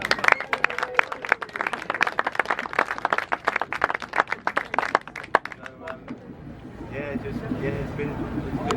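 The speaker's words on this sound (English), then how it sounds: "deserves another round of applause." Scattered clapping from a small group gathered on board a boat, sharp and uneven, tapering off after about six seconds as voices take over.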